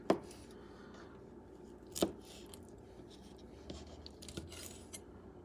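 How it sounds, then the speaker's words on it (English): A knife chops squid into rounds on a cutting board, a few sharp, separate cuts spaced a couple of seconds apart over a quiet kitchen background, with no talking. "I'm going to cut it into manageable pieces."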